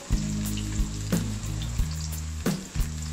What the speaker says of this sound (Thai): ผมก็จะนำกระเทียมสับนะครับใส่ลงไป การผัดเจียวกระเทียมให้เหลืองหอมก่อนนะครับ